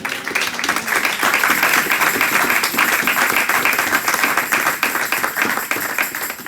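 A Sunday church congregation bursts into loud, sustained applause and clapping, a dense crowd of hands continuing steadily without pause.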